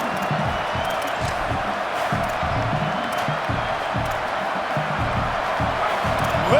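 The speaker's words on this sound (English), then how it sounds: "Listen to this crowd just shaking the girders of this place, trying to help their defense." A large American football stadium crowd roars and cheers continuously during a defensive play, a loud sustained wall of noise with scattered whoops.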